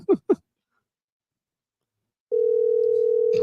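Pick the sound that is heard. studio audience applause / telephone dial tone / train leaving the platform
telephone dial tone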